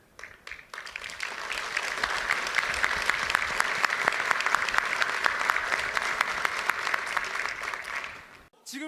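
An audience at a political speech breaks into sustained applause, a dense wash of many hands clapping that swells in quickly, holds steady for several seconds, then drops away.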